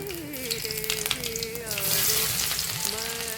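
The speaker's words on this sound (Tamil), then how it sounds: "இப்போ நம்ம கட் பண்ணி வச்சுருக்க வெள்ளைப்பூடை சேர்த்துக்குவோம்." Garlic frying in hot oil with fennel seeds for potato masala gives a continuous close sizzle that swells louder toward the end, with light stirring clinks.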